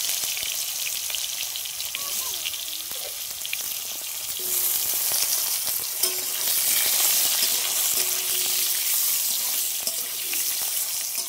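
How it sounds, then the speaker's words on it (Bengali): Raw green plantains frying in leftover potato-frying oil give a loud, steady, close sizzle that swells slightly midway, continuous and free of speech. "আমরা কাঁচা কলাগুলো তেলের মধ্যে দিয়ে হালকা করে ভেজে নেবো"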